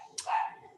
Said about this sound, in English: Sorry about my dog, if you can hear him.